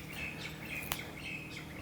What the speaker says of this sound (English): It's nice to have the birds sing.